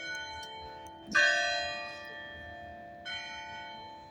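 Church bell tolling at a distance, two slow strikes with long ringing decays and a third just starting, fairly faint over quiet outdoor background.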